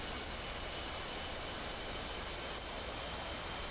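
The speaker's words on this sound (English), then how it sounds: "we're going to push our throttle forward until the launch bar goes over the hook" F/A-18 jet engines in the DCS combat flight simulator throttling up on a carrier deck, a loud, steady broadband roar that fills the whole clip without pause.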